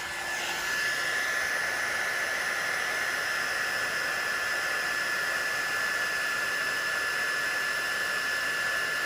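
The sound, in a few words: heat gun blowing wax onto a Filson jacket collar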